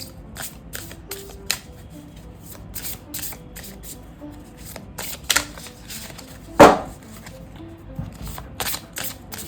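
Tarot cards being shuffled and drawn from the Major Arcana, heard as soft, scattered card flicks and slides with one sharper snap near the end, close and quiet with no talking.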